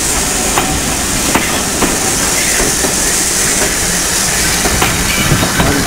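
Steam train passing on the North Norfolk Railway, running as a Santa special with six coaches, heard as a loud continuous rumble and hiss with faint rhythmic clicks of wheels on rail joints.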